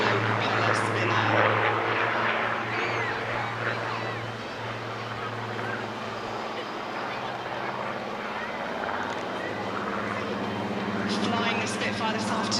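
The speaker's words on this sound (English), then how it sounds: "As the aircraft fly past us on the seafront there, you'll see the beautiful blue colour scheme with the yellow propeller spinner." Supermarine Spitfire propeller aircraft in a blue scheme with a yellow spinner flying past over the seafront at an airshow, a steady droning engine hum sustained throughout under continuous commentary.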